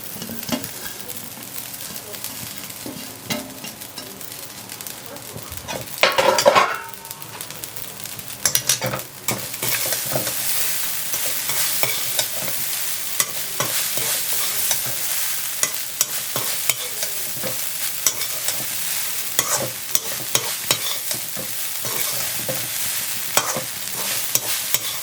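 Cooked rice stirred into a tangy puliyodharai tamarind mixture in a pan, a continuous sizzle under repeated scraping and tossing strokes, with a louder clatter early on.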